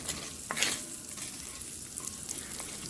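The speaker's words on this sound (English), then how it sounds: "just stir this around so that the garlic doesn't burn" Garlic sizzles steadily in a hot pan while a utensil stirs it, adding soft scraping clicks over a constant bright frying hiss, close and fairly quiet.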